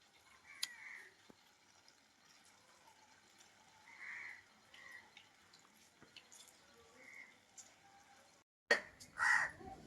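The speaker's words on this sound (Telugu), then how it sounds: "సులక్షం కాకులు వస్తున్నాయి కదండి," Crows caw in short intermittent calls at a moderate distance in a village courtyard, with a sharp clatter and louder sounds near the end over faint household background.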